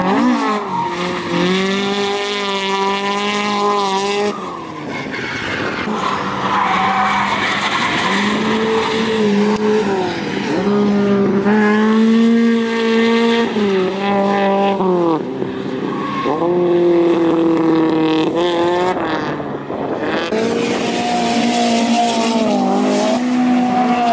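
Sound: Toyota AE86 car drifting run with tire squeal

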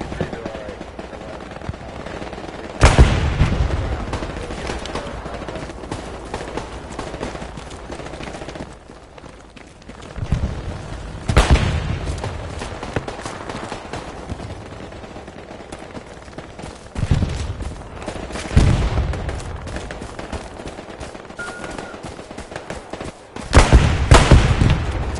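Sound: gunfire shooting at a tree, from a video game

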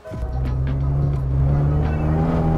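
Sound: car drifting with engine revving

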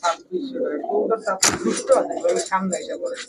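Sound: Pakistani high-flyer pigeons cooing

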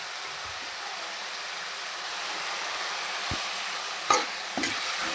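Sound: stirring and roasting peanuts with spices in a pan

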